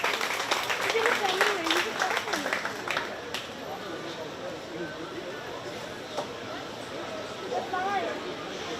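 Crowd applause for a young exhibitor's 4-H sheep entry at the 2024 Shelby County Fair sheep and goat show, a steady patter of clapping that fades as an announcer talks and animals shuffle nearby.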